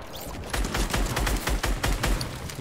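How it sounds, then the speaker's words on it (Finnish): Rapid gunfire from a Fortnite match, a dense string of sharp shots at a steady, fast rhythm that fills the whole moment, loud and close with no talking over it. "Mistä jengi oikein ampuu?"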